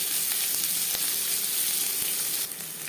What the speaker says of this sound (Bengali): 2 চামচ সরষের তেল গরম করে নিয়েছি। এবার দিয়ে দেবো পেঁয়াজ,